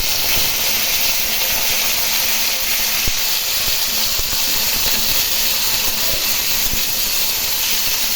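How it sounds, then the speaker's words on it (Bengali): Potatoes frying in oil for a Bengali cabbage curry give a loud, constant hiss of sizzling with no talking, the sound dense and unbroken throughout. "আলু একটু ভেজে নেবো ভালো করে"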